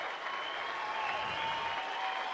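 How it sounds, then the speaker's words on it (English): Baseball fans at a Division III championship game applaud a departing LaGrange pitcher, a steady, distant patter of clapping from a modest crowd that holds evenly through the moment. "I'm sure Bailey will receive a hearty applause, and it's already started from the fans from LaGrange."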